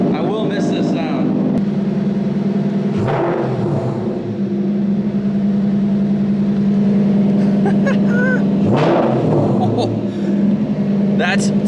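A loud car engine running with no exhaust idles with a deep, steady drone and revs sharply twice, rising and falling. It is close and dominant, with someone speaking briefly over it.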